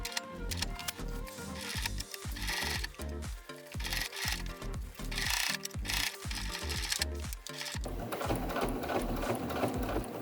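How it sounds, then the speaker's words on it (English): A serger runs steadily along the seam of a quilt hoodie, a fast, even mechanical chatter from close by that shifts to a brighter, busier whir in the last couple of seconds. "now that I have a serger, I just feel like I need to use that serger on everything."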